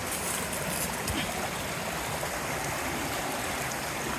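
A stream crossing a hiking trail on Big Slide Mountain in the Adirondacks rushes in a steady, fairly loud wash of flowing water, unbroken and with no voices over it.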